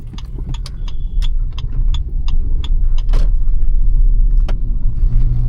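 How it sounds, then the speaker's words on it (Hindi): Inside a moving Maruti Fronx, rapid irregular rattles and clatters sound over a constant low road rumble while rolling across rough road patches. "ये खड़ खड़ खड़ खड़ खड़ खड़ आ रही है आवाज़"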